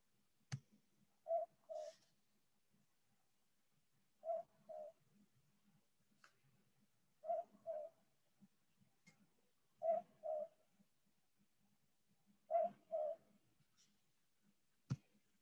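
Recorded call of the southern boobook owl from eastern Australia, a repeated soft two-note hoot given five times at regular intervals of about three seconds, clear and isolated against a quiet background.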